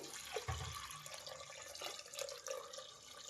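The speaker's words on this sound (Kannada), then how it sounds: "ನೀರು ಹಾಕ್ತಾ ಇದ್ದೀನಿ ಇಲ್ಲಿ ಒಂದು ಅರ್ಧ ಲೀಟ್ರಷ್ಟು" Roughly half a litre of water is poured into a cooking pot for radish sambar, giving a faint, splashy trickle and drips that carry on throughout without speech.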